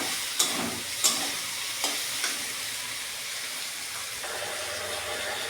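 A spatula stirs spinach and fish-head curry with crushed garlic in a pan, giving a steady close sizzle with a few sharp scrapes and clinks early on. No one speaks.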